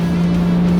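Nissan Skyline R33 turbo with an electric exhaust cutout valve opened onto a 3-inch straight dump right after the downpipe, droning loud and steady with a strong low hum throughout, no voices.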